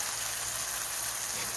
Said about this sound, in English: I'm sauteing the oil.